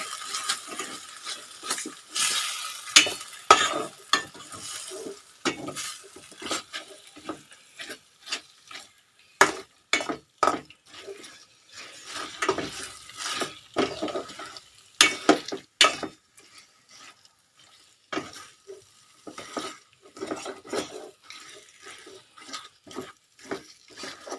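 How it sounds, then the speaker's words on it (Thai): Marinated pork being stir-fried in a pan: irregular bursts of spatula scraping and clatter over a faint sizzle, close and uneven in rhythm, with no talk. "ผัดให้หมูเขาเปลี่ยนสีนะคะ"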